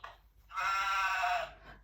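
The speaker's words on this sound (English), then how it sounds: "The sheep" A single sheep bleats in one long, loud, wavering cry, heard alone on a farm with quiet moments before and after.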